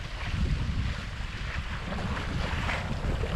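Sailboat under sail in open Atlantic water near Anegada in the British Virgin Islands: steady wind buffeting the microphone over rushing water and waves along the hull, continuous and fairly loud, with no voices.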